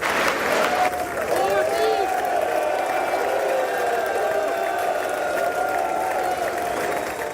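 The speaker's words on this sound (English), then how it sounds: "The Prime Minister walked into loud cheer and applause as lawmakers welcomed him." US Congress lawmakers give loud, sustained applause and cheers as a Prime Minister arrives for an address, with a dense crowd of clapping filling the chamber and a voice talking over it.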